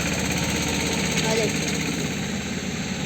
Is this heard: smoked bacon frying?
no